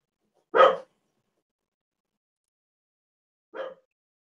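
A pet dog in a home barks twice, a loud close bark followed about three seconds later by a softer one, with silence otherwise.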